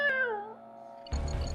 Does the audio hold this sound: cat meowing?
yes